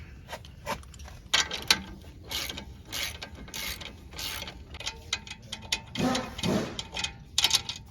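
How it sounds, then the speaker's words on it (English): Ratchet with an 18mm socket loosening the sway bar link bolt on a Volvo XC90 during a strut change, a close series of quick clicking bursts in irregular spurts, with no talking. "using our 18mm socket and our ratchet, we are going to go ahead and take off the sway bar link"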